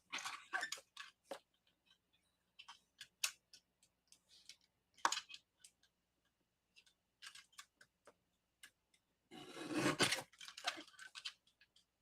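Scissors trimming card stock for a handmade thank-you card, sharp crisp snips spaced irregularly, some single and some in quick clusters, with a longer rustling cut near the end, close and quiet.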